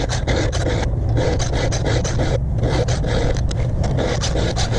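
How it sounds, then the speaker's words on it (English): Steady back-and-forth strokes of a file on a chipped saw tooth, a dense rhythmic rasp with closely spaced strokes and a brief pause partway through, close and loud. "we'll file that back past that"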